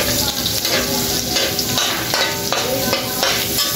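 Garlic sautéing in a pan for reef octopus, a dense loud sizzle with repeated rhythmic scrapes and taps of a spatula against the pan, close and continuous, no voices.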